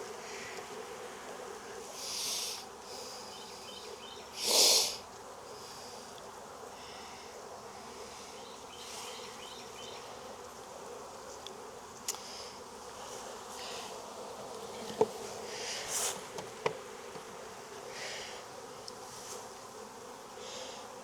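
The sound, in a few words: small honey bee swarm buzzing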